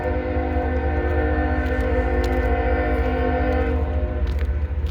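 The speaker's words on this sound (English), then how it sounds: "Be quiet, train, please." A passing train sounds its horn in a long, steady, loud blast layered over the rumble of rolling wagons, heard close and continuous with no talking.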